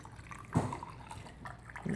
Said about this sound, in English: Here we have 1 cup of beef broth, and we're just going to pour it in on the side.